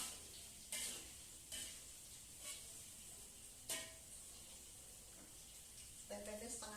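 Tempe frying in a pan, a faint sizzle under bursts of stirring and scraping that come every second or so, with brief clatters near the end.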